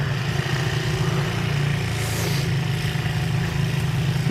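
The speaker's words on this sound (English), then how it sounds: "he's still out there plowing too. This is his tractor." A neighbor's tractor plowing snow during a blizzard, its engine droning steadily and close by with a low, continuous rumble that never lets up.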